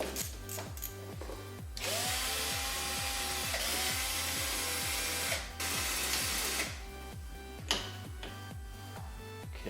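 A ratchet works 12mm bolts off the front AC compressor lines on a Subaru Legacy Turbo during an EJ22T engine removal, a rapid run of close clicking strokes with a brief burst of broadband mechanical noise in the middle.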